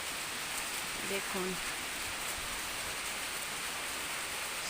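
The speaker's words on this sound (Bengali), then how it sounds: "এমন বৃষ্টি কার কার ভালো লাগে কমেন্ট করবেন" Rain falls steadily as a soft, even hiss throughout, with a brief voice speaking near the start over it.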